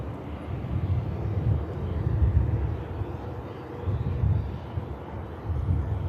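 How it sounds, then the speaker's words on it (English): A TAP Air Portugal airliner touches down at Manchester Airport, a low, wide engine rumble heard from a distance that swells and fades slightly, with some wind noise. "here's the TAP Air Portugal that's just touched down"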